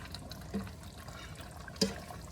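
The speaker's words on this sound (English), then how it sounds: "You gotta keep stirring it. Get the other noodles on the bottom." Ziti noodles being stirred in a pot of cooking water, with two soft sloshing clunks of the spoon over a quiet, watery background.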